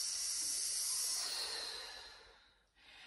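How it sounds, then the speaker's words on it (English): A person breathes out slowly during a hip-hinge core exercise, a long soft breathy hiss that fades over a few seconds, heard up close with no talking. "then you're going to exhale"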